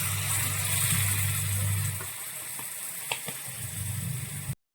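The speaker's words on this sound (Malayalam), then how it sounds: "ഇതിലേക്ക് നമ്മൾ വിനാഗിരി ഒഴിച്ചൊന്ന് തിളപ്പിക്കണം." Vinegar poured into roasting mustard seeds, fenugreek and dried chillies for a bitter gourd pickle, giving a loud hissing sizzle that eases into a softer bubbling simmer with a few clinks before cutting off.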